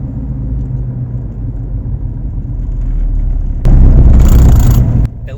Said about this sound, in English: I'm going to start slowing down right now and see if you guys can hear this weird shudder that I'm feeling